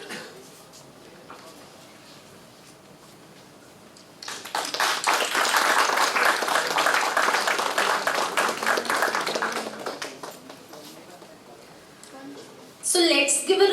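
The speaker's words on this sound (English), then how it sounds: "let's give a resounding round of applause to welcome our esteemed guest" At a mentoring session, an audience breaks into applause welcoming a guest: quiet room murmur first, then a loud sustained burst of clapping for several seconds that tapers off, followed by a voice speaking.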